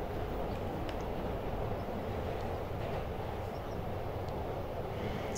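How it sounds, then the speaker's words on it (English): A subway train in the Marvel's Spider-Man PS4 video game rumbles steadily along the track, a continuous low roar with faint occasional clicks, no voices over it. "Spider-Man taking the subway."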